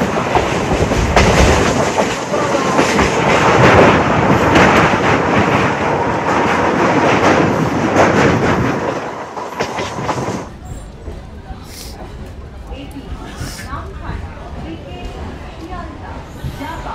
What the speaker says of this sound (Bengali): তারপরে এই ট্রেনই রওনা দেবে নামখানার উদ্দেশ্যে